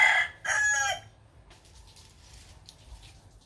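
A rooster crows loudly and close in two bursts near a rural Vietnamese countryside garden, followed by quiet background ambience.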